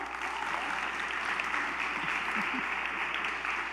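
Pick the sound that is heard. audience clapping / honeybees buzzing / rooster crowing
audience clapping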